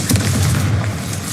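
A Confringo blasting spell explodes in the Hogwarts Legacy video game, a loud, sustained low boom rumbling steadily through the short moment without any voices.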